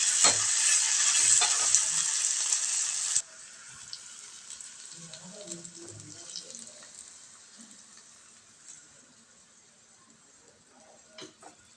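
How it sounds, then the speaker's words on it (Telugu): Coriander and asafoetida frying in hot oil as a topping for ridge gourd chutney, a loud steady sizzle for a few seconds that drops abruptly to a faint crackle with light clinks of a utensil. "ఇది కూడా కొంచెం నూనెలో ఫ్రై అయితే బాగుంటుంది"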